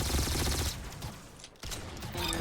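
Bursts of rapid gunfire from a first-person shooter match in Arsenal, loud and dense for the first stretch, thinning to scattered shots, then resuming near the end.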